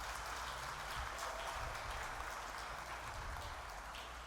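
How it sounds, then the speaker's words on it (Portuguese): A church audience bursts into sustained applause to welcome a guest speaker, a dense, steady wash of many hands clapping throughout, with no voices standing out. "Vamos recebê-la com uma salva de palmas para a glória do Senhor."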